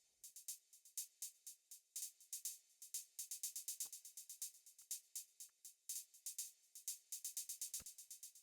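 A bouncy pluggnb beat loop at 140 BPM with crisp, busy hi-hats ticking in rapid patterns and rolls, plus occasional low hits, playing on its own without any voice.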